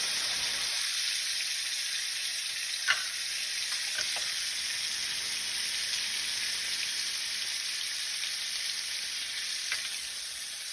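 Lemon juice and minced garlic sizzling in a hot pan, a steady bright hiss that holds evenly throughout with a couple of faint clicks, no talking.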